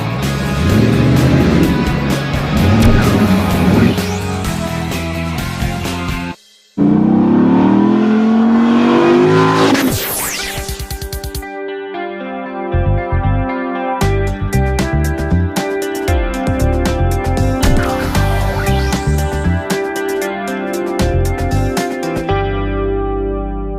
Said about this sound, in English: I give you the Ford Focus ST, quite possibly the best front-wheel drive car I've ever tested.